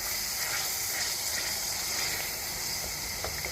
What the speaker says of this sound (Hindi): दो 3 मिनट के लिए इनको भूनेंगे